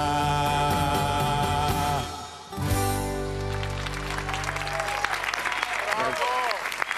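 After a Greek song duet on a TV talent show, music with sustained harmonic tones fades out abruptly and gives way to audience applause with cheers and exclamations, loud and continuous under a voice.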